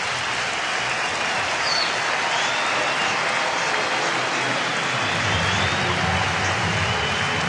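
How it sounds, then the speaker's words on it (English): A stadium crowd at Comerica Park in Detroit gives a warm round of applause as a rookie right-handed pitcher leaves the game in the sixth inning, a steady, dense wash of clapping and crowd noise that holds throughout. "He'll be lifted here in the 6th to a very nice round of applause"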